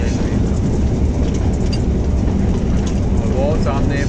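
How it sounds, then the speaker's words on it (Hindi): Kohat Express train hauled by a Hitachi locomotive passing through Gagan railway station without stopping, a loud, steady rumble and rolling noise heard from the cab throughout. "कोहाट एक्सप्रेस इस वक्त पहुंच रही है गगन रेलवे स्टेशन पर"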